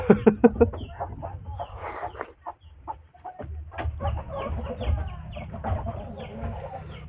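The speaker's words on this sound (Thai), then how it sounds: "ตัดยากแล้วคลิปวันนี้ไก่กวนนะฮะ" Chickens cluck in the background near a kitchen where braised pork leg is being made. There are quick bursts of clucks at the start, then scattered clucks and squawks over low background rumble.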